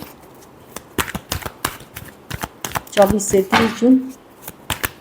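Tarot cards being shuffled in quick, crisp riffles and taps, close by, under someone speaking in Hindi.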